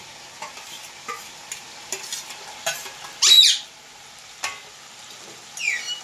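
Chicken lightly frying in a pan with spices, stirred with a utensil: soft scraping strokes at irregular intervals, one louder clattering scrape with a squeak, over a quiet sizzle in a home kitchen, no talking.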